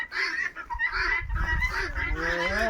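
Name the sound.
turkeys shrieking on a farm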